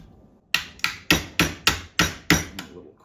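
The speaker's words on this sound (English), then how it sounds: "and just hammer it flat." Eight sharp, evenly spaced hammer blows flatten a kinked strip of tin can metal, each a close, ringing metallic strike that decays quickly before the next, with no talk.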